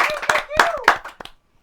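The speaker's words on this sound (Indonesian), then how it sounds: "tepuk tangan untuk mereka berdua" A studio audience claps in scattered, sparse hand claps for two guests. The clapping is heard under a person talking and dies away quickly.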